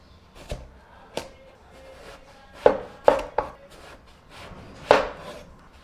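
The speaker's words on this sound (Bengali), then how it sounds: "এবার বেগুনগুলো স্লাইস করে কেটে নেব।" A knife slices through a round eggplant on a cutting board, giving about seven separate close, sharp knocks at an uneven pace with quiet gaps between cuts.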